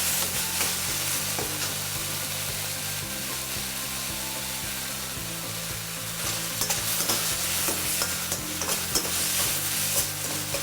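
Tomatoes sauté in a pan with a little salt for a quick tomato kurma, giving a steady close sizzle with stirring scrapes throughout and a low tonal hum underneath.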